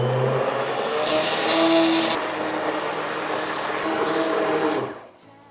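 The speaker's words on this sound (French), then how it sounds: "on va se mettre un petit coup de mixeur plongeur ici" An immersion blender whirs through pumpkin soup, a loud continuous motor drone that holds steady for about five seconds, swells slightly midway, then cuts off, leaving quiet.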